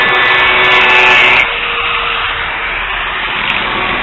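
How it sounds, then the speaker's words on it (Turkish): A grinding stone cuts channels into a marble gravestone, a loud continuous abrasive whine that drops to a duller, steady grind partway through, close and without speech. "Şu anda taşlama taşı ile kanallarını oynuyor."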